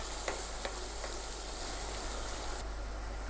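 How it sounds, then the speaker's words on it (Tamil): Continuous close sizzling of garlic and curry leaves frying in hot oil, with a few light clicks of stirring. "கொஞ்சமாக கருவேப்பிலை எல்லாம் சேர்த்துட்டு 1 நிமிஷம் நல்லா எண்ணெயில் வதக்கிக்கலாங்க"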